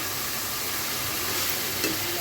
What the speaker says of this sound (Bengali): এরপরে হচ্ছে আস্তে আস্তে মাছগুলোকে কষিয়ে নেব